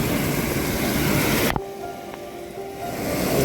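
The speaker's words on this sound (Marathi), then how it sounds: "प्रेशरमध्ये हे पाणी उडत आहे" Pressurised water sprays out onto a road in a loud, steady hissing rush that cuts off abruptly partway through, leaving a faint, quieter background that slowly builds again.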